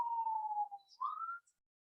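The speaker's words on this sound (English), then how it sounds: "it's really loud and we never have sirens, so that's super weird" A siren wails outside, a fairly faint, steady tone that dips and then rises again, heard once through a quiet room with no one speaking.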